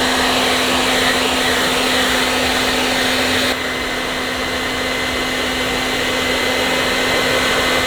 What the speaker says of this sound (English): We just heated it up with the blow dryer.